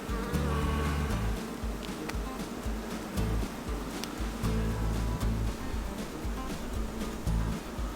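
Honey bees buzz steadily at an open hive full of honey, a dense close hum with individual bees droning past, continuous throughout.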